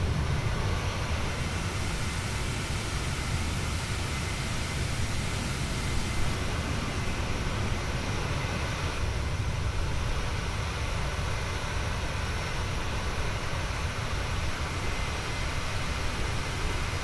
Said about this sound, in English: Just outside that engine noise.